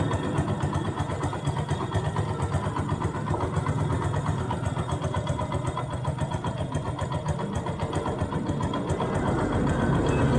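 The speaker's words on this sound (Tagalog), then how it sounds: "Umandar na yung motor" A Yamaha YTX motorcycle engine idles steadily at close range, a continuous low rumble with a fast even putter throughout, no talking.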